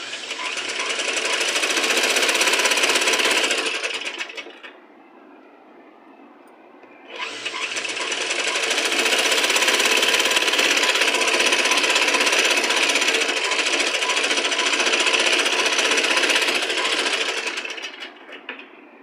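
Sewing machine stitching invisible piping onto cloth, a loud close continuous mechanical whir running for several seconds, stopping briefly, then starting again for a longer run before winding down.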